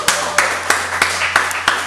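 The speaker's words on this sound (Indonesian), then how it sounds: "Tepuk tangan." Applause at a podcast comes as a sparse run of about six distinct, evenly spaced claps, close and sharp over a faint steady hum.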